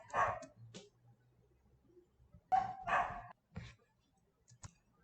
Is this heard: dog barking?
yes